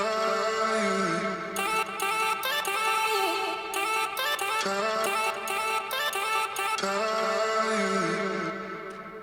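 A chopped vocal sample in an electronic track made in Logic Pro X plays as short pitched syllable fragments in a rhythmic pattern over a sustained synth bed, bright and continuous, with no speech.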